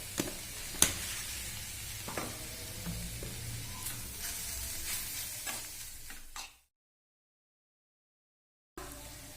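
Onions fry in oil for a Telugu-style carrot fry, a steady close sizzle with occasional scraping stirs and a sharp clink early on, then a sudden cut to silence for about two seconds before the sizzle returns.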